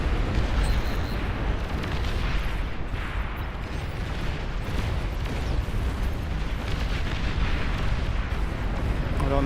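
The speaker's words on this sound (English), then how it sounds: "The whole thing is exploding." Rail gun fire and explosions in the RTS game Beyond All Reason, a massed battle of steady, dense rumbling blasts and bursts throughout, loud and continuous, with speech partly buried underneath.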